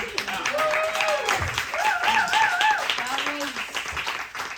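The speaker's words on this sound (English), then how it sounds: "let's give her another round of applause" Audience applause follows a live storytelling performance, moderate clapping running under someone speaking over it for the whole stretch.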